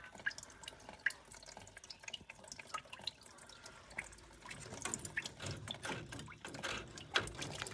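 Water drains and drips from a gas boiler's plate heat exchanger, a quiet irregular patter of droplets and trickling splashes that continues steadily, with no one speaking.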